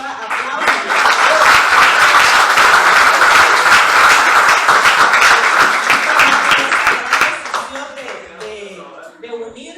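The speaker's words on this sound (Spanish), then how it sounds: "Un fuerte aplauso." Applause from a church congregation at an outdoor water baptism service, a dense sustained wash of clapping that tapers off near the end, with voices mixed in.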